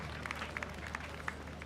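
An audience at a presidential tree-planting reforestation launch applauds a government minister, fairly faint and diffuse clapping with a few sharper claps standing out over a low steady hum.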